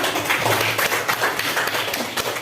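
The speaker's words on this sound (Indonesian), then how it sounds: "Oke, tepuk tangan" A class of students clapping their hands together in a school classroom, a dense run of overlapping claps lasting a couple of seconds at close range.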